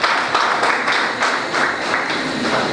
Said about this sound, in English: let's have a big round of applause for our principal